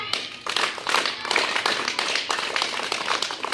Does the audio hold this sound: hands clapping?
yes